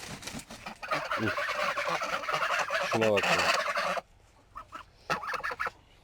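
Loud, repeated harsh honking and gobbling calls from nearby geese, dense and overlapping for several seconds, then a pause and a few sharper calls with brief speech.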